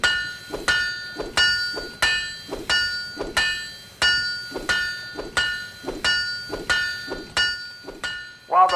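Rhythmic metallic hammer blows from an engineer buffing a ship part in the Guns of Icarus airship game, about a dozen evenly spaced clanging strikes with ringing overtones, loud and close, with no talk over them.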